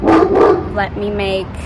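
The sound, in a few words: dog barking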